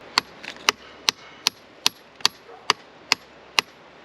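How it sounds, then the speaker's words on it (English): Hammer blows strike rock while breaking out star sapphires, about nine sharp, evenly spaced clacks roughly half a second apart, loud and close over faint background noise. "I was just hammering this one here and I heard a big pop"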